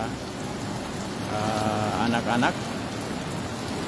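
Heavy rain hisses steadily in Sinjai Regency as a news narrator speaks briefly over the wash of falling water.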